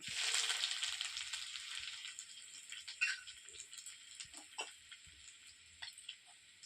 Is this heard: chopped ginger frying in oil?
yes